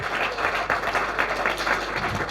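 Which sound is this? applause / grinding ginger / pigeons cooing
applause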